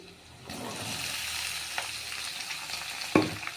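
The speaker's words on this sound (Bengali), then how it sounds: "এদিকে আমি আমার মিক্স ভাজি বানাইতেছি" Mixed vegetable bhaji with okra sizzling steadily in a pan, a continuous close frying hiss broken by occasional stirring clatters.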